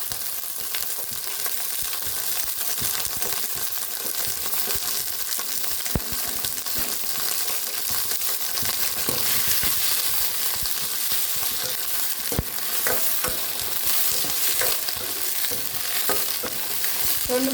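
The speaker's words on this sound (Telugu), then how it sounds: "నూనె పోసుకొని పండు మిరగాయ బాగా వేసుకుందాం." Ripe red chillies fry in a pan of oil, giving a loud, steady sizzle with frequent stirring clatter and scraping throughout, with no voices.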